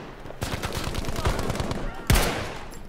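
Gewehr rifle shots in Battlefield V, with several sharp, loud reports set against a rapid rattle of distant gunfire, ending in one strong close blast.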